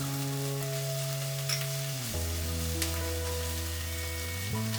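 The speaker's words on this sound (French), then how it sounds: "Faire suer l'ail et le gingembre une quinzaine de secondes. Ajouter le fameux doubanjian, les graines de soja noir, le sucre," Garlic, ginger and doubanjiang sizzle in a pan with a steady, close frying hiss and a few faint clicks, under a sustained musical tone that shifts pitch partway through.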